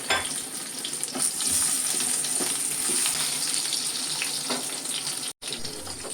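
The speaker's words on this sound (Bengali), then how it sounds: "আর কিছু কেটে রাখা কাঁচা লঙ্কা ভেজে নিয়ে এবার কিছু আলু দিয়ে দেব।" Chopped green chillies and potatoes frying in hot oil in a pan for a Bengali fish curry; a steady, bright sizzle with occasional stirring scrapes continues throughout, alone without talk.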